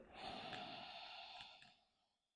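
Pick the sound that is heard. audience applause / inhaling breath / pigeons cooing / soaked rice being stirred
inhaling breath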